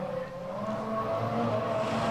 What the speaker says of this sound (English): Ooh, bit of wheel spin there as he goes out.